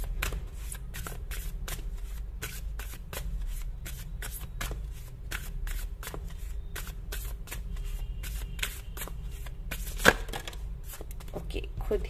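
A deck of tarot cards is shuffled over and over in quick, steady riffles over a constant low hum, with one sharper snap near the end. No one speaks.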